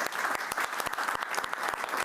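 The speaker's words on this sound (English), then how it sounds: "so give her a round of applause for that." Applause from an audience at a school board meeting: a steady patter of many hands clapping together, moderately loud and close, with no talking over it.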